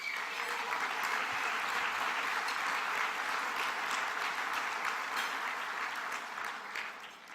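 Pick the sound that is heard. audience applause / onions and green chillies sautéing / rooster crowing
audience applause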